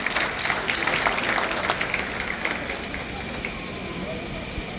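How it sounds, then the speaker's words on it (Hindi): Crowd clapping for an event's organizing team, a burst of applause that is strongest at first and then thins out over background noise. "पूरी की पूरी जो टीम जिसने ऑर्गेनाइज किया उसके लिए एक बार तालियां बजा दो एक बार"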